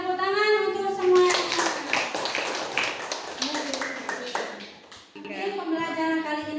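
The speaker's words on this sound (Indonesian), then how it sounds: "tepuk tangan untuk semua" A university classroom bursts into a few seconds of scattered clapping and tapping, loud and close, between stretches of a teacher speaking.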